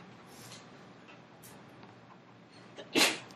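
Quiet room tone, then a single sharp sneeze near the end, close and fairly loud.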